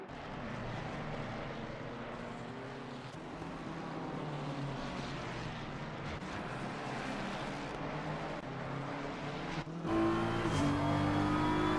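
Race cars lapping Brands Hatch during a Shooting Stars Cup round, a steady dense engine roar throughout that swells louder near the end as cars pass close.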